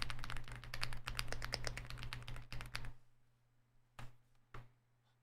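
Typing on an inexpensive computer keyboard with deep rather than clacky keys: a fast, steady run of close key clicks for about three seconds, then quiet with two isolated louder taps, no talk.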